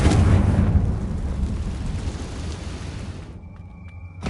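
A Confringo blasting-curse explosion in Hogwarts Legacy: a loud, rumbling blast that decays over a few seconds into a faint tonal ring at the end.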